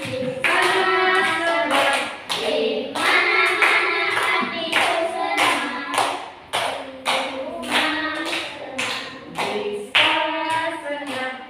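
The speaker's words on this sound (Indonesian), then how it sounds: "Boleh sampai tepuk tangan." Rhythmic group clapping from a class audience, steady claps in time with a sung tune and voices singing along throughout, loud and close.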